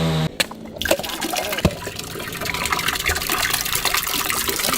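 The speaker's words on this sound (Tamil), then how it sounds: "குடத்துல தண்ணி ஊற்றி." Water poured into a pot in a village setting, a continuous splashing gush with dense bubbling that grows fuller as the vessel fills.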